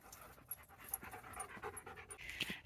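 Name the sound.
puppies panting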